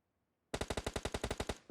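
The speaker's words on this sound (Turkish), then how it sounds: "biri sıktı onlara" Rapid automatic gunfire in PUBG Mobile, a loud burst of about a dozen evenly spaced shots starting abruptly after a brief quiet and running to the end.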